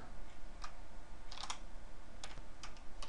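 Someone types code on a computer keyboard in short bursts of quiet key clicks over a steady background hiss.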